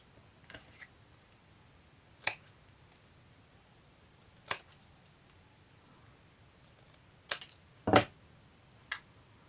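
Scissors snip through paper in a quiet room, with a handful of short, sharp cuts spaced a second or two apart, a cluster of crisp snips near the end.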